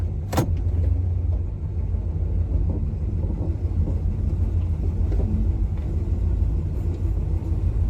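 A steady, deep rumble from the stock exhaust of a 1964 Dodge Dart GT with a 273 V8 holds throughout, the car idling or moving close by, with a brief sharp click near the start.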